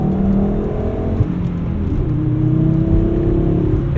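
A 1997 Volvo 850 R with a five-speed manual and a Euro-spec turbo tune, heard from inside while driving, its engine droning loudly and climbing steadily in pitch as it accelerates under load.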